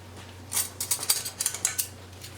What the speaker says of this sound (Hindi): अलग अलग स्पून से मिक्स कीजिएगा।